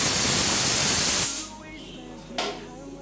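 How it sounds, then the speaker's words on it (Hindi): A pressure cooker cooking rice on a gas stove releases a loud, sharp hissing whistle that cuts off after about a second, leaving quieter kitchen sounds and a brief burst of hiss. "एक विसल आ गई है तो हम गैस को कर देंगे बंद"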